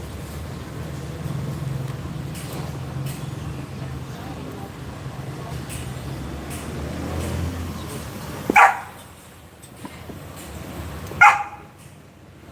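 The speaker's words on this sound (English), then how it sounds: "That's a dog, man." A young dog, a puppy only a couple of months earlier, gives two sharp barks a few seconds apart, heard over a steady background murmur with voices talking at a dinner spot in Da Nang, Vietnam.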